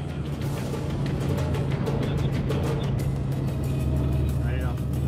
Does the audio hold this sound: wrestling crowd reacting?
no